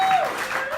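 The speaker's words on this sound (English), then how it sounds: "Yeah, applause." A stand-up comedy audience at Ivywild gives a short burst of applause, a dense, even patter of hands that continues briefly with no talking over it.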